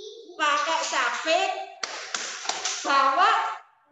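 A group of kindergarten children sing along to a rhythmic clapping game, tepuk petani, with sharp hand claps and taps punctuating their chanting voices at close range.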